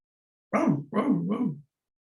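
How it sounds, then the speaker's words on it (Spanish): A dog gives two or three close, yelping barks in quick succession, a short whiny burst standing alone against silence. "Todo el tiempo está ladrando."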